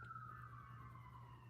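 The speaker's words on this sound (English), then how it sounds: "not sure if you can hear that siren" A far-off emergency vehicle siren wails as a steady, slowly falling tone, faint and distant over a low constant hum of background noise.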